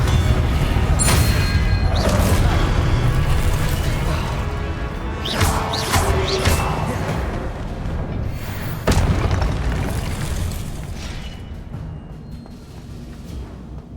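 Confringo blasting spell explosions in Hogwarts Legacy, several loud booming crashes spaced across the stretch, the strongest near the middle and a later hit, each decaying into game ambience.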